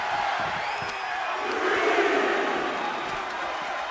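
A wrestling crowd in the WWE 2K24 video game cheers and roars continuously at moderate volume during a New Japan G1 Climax match, swelling briefly in the middle.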